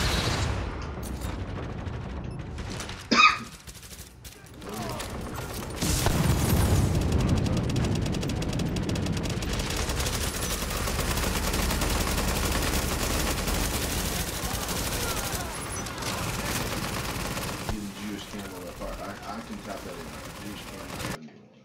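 Gunfire in Tom Clancy's The Division during a Russian Consulate challenge, with a sharp single shot early on followed by a long dense stretch of sustained rapid firing and game noise under talking players.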